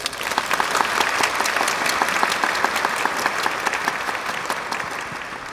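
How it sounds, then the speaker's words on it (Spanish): Audience at a Sunday church service breaks into sustained, dense applause that stays loud and even for several seconds before easing slightly at the end. "Dame un aplauso."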